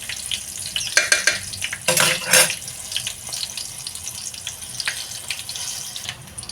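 Masala with green chillies sizzles in a pan on a gas stove: a steady crackling fry broken by clattering bursts of stirring and scraping near the middle.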